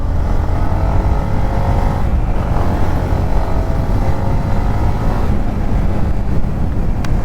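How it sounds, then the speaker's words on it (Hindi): A 155cc Yamaha MT-15 motorcycle pulls away from a standstill, its engine note rising steadily as it gathers speed, loud and close with steady wind and road roar throughout and no talking. "ये है इनिशियल पिकअप यामाहा की MT-15 का"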